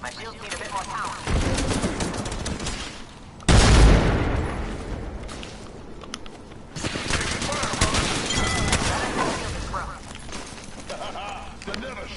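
Gunfire in a PS4 video game: sustained bursts of shots and booms with a heavy blast partway through, mixed with game noise while a player talks over the action.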